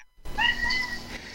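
A single clear cat meow, drawn out and fairly close, rising briefly then fading, with no other sounds around it.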